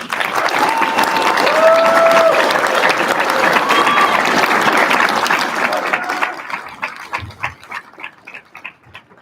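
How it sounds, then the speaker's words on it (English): A crowd at a nurse pinning ceremony breaks into loud, sustained applause with cheers and whistles, then thins into scattered individual claps near the end. "let's give you guys another round of applause"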